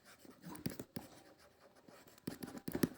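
Marker or chalk writing on a board during a lecture: faint, close scratching and tapping strokes in short clusters with pauses between them.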